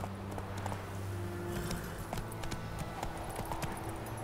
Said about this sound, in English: Oh, I can mount some random horse?